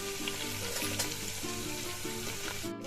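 Ginger, garlic and spices frying in hot oil for a spicy mutton dish, a steady close sizzle lasting throughout with soft tonal music in the background and no talking.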